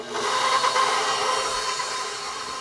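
Steady whirring drone of an electric mixer blending room-temperature cinnamon bun ingredients, continuous and fairly loud, close by, with no talking.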